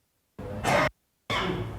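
Two separate coughing bursts, the first around half a second long and a second after a short pause, heard close and fairly loud in a quiet indoor room during a religious talk for school teachers and staff.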